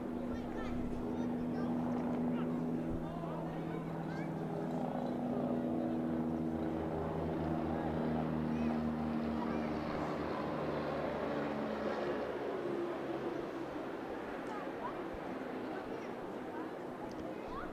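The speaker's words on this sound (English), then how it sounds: "Police helicopter." A police helicopter's low droning rotor hum hangs in the background throughout a county cricket match, steady and somewhat distant, with occasional faint voices mixed in.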